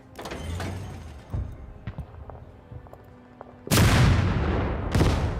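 An anti-tank gun fires in Total Tank Generals with two sharp, loud blasts near the end, after a stretch of quieter, distant battle clicks and thuds.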